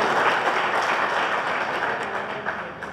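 A crowd claps steadily at a political gathering in Jajpur, welcoming new members into the party, with dense applause running the whole time and no voices clear above it.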